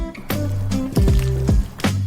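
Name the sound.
mixing filling with Japanese mayonnaise in a bowl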